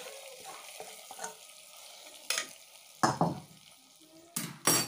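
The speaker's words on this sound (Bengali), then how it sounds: "এরপরে মা ফোড়নটা এই খিচুড়িতে ঢেলে দেবে।" Hot tempering spices are poured into a pot of khichuri, setting off loud bursts of sizzling and spluttering after a quieter stretch of light kitchen noise, with a few clanks of a utensil against the pot.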